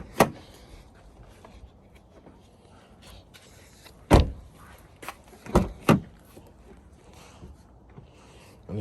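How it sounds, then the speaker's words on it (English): Doors on a 2019-2023 Nissan Altima are locked by hand, giving a few sharp mechanical clunks and clicks spaced seconds apart against a quiet interior background. "Let's lock all the doors."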